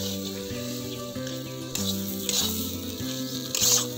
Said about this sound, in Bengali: এরপর আরও একটু ভালো করে ভেজে নেব।